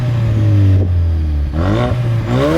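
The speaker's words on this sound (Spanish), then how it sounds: "el escape sonará más o menos, y también tiene un sonido de petardeo, el cual está provocado artificialmente" A Ford Focus RS revving hard, its engine rising and falling in pitch through loud, close bursts, with crackling exhaust pops between the revs.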